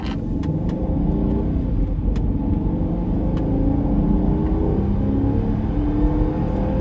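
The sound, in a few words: L322 Range Rover accelerating in high range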